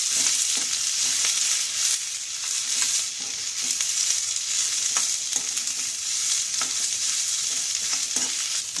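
Grated coconut and onion masala roasts in a pan with a loud, continuous bright sizzle and crackle, broken by repeated scraping strokes of a spoon stirring, with no talking.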